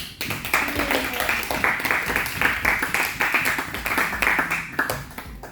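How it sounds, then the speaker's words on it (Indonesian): Students in a class clapping for group 1, steady, dense applause from many hands that fills the room and runs throughout at close range. "kita kasih aplaus"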